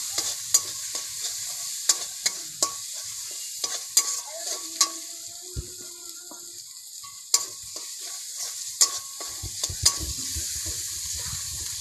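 Spices with Kashmiri chilli powder are stirred in oil in a pan for a snail curry, a soft sizzle punctuated by repeated sharp spoon scrapes and taps against the metal, irregular and close.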